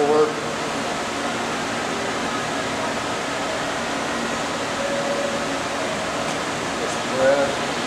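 A Monarch EE lathe runs in forward gear, a steady, smooth and quiet machine hum holding at an even level from start to finish with no voices over it.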